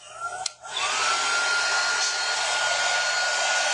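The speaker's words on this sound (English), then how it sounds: "So now I'm going to dry my surface again." A hair dryer roars steadily and loudly close by as it dries a painted surface, with a brief dip as it starts up, then a constant whooshing airflow and a thin whining tone.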